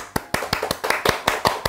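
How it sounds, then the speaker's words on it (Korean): Hands clapping close up, about nine sharp, evenly spaced claps in quick succession that make a brisk, loud burst with no talk over them. "박수!"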